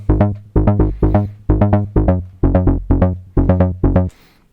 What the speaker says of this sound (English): this is a bass sound coming from the Moog